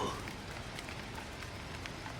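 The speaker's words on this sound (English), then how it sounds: "the rain intensified, drumming against the windows of our Baker Street lodgings with increasing vigour" Steady rain drums against the windows of Baker Street lodgings, a dense even patter with scattered sharper drops, continuous and unbroken, with no voices.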